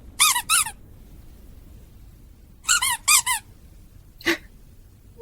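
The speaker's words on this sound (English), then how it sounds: "He's pushing the squeaky alarm clock." A Chihuahua pushes a squeaky toy alarm clock, setting off sharp, close squeaks in three bursts: two quick ones, then a triple cluster after a pause, and finally a shorter squeak, with quiet between them.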